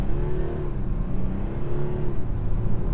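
A 2019 Audi Q7 50TDI diesel SUV accelerates hard from inside the cabin, a steady, loud engine drone and road roar with rising harmonic tones, continuous throughout with no talk.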